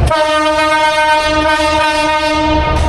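The Padma Express passenger train from Dhaka to Rajshahi runs steadily, producing a loud, sustained horn-like drone with strong harmonic tones over a constant rumble of rolling wheels. It fades slightly near the end, and no voices are heard.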